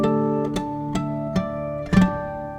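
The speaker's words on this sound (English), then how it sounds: "It's this deeper mystical sound that emanates from the guitar, this beautiful harmonic." Sustained, ringing guitar harmonics in DADGAD tuning with bell-like clarity, several notes plucked one after another and left to overlap and decay.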